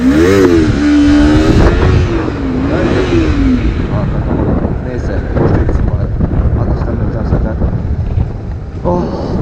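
A Yamaha R25 sport motorcycle's engine revs hard during a wheelie attempt, loud and close, the pitch rising and falling, with heavy wind buffeting the microphone throughout.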